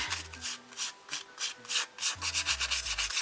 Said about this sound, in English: And I just keep rubbing